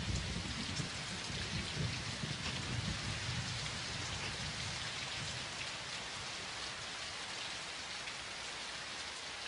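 Heavy rain from a desert thunderstorm in the Sahara pours down steadily as a dense, unbroken hiss, with a low rumble of thunder underneath during the first few seconds.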